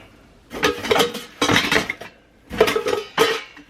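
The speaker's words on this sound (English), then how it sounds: "Got my dollar store loaf pan." Metal cookware clinks and clatters while being packed with outdoor gear, including a dollar store loaf pan, bowls, lids and a thrift store cook pot, in four close bursts of rattling contact with brief pauses between them.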